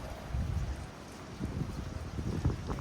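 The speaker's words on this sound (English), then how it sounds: "it's pretty windy outside as well" Gusty wind buffets the microphone with low rumbling bursts, steady and close throughout, with no voices.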